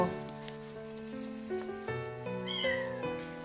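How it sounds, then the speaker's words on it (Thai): A small kitten meows repeatedly up close, a run of several high, thin, wavering cries in quick succession with rising and falling pitch, clear and alone. "จะได้ยินเสียงแมวน้อยร้องค่ะ"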